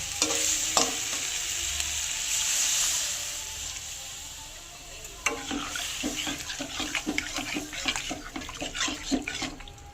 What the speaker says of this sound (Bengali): এবারে পরিমাণ মতো জল দিয়ে ঢাকা দিয়ে দেবো